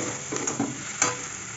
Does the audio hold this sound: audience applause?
no